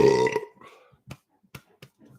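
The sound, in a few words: man burping after carbonated drink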